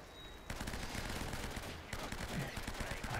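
Rapid bursts of gunfire from the video game Uncharted crackle loudly and almost continuously, with dense overlapping shots breaking out after a brief pause and resuming in a second volley.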